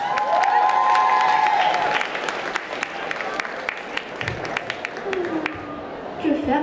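Applause and cheering from a convention crowd greet a cosplay contestant, loud at first and then thinning into scattered claps while a voice calls out and a presenter starts talking over the tail end.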